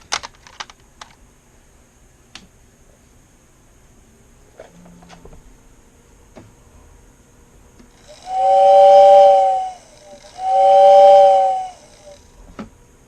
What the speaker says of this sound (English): Whistle works quite well. Let's try it out.